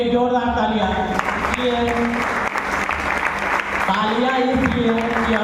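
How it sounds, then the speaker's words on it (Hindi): An audience claps loudly and continuously at a product presentation, dense applause filling the whole stretch with a steady tonal hum beneath, and a voice faintly audible behind it. "एक जोरदार तालियां"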